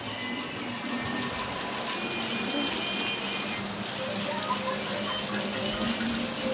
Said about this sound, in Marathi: कसा पाऊस चालू झाला